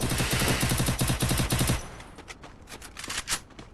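Rapid automatic gunfire from a video game fires in a loud, dense burst for nearly two seconds, then gives way to a few scattered, sharper shots and clatter.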